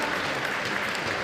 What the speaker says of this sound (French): Pour Omika, s'il vous plaît, un tonnerre d'applaudissements parce qu'il a fait des games exemplaires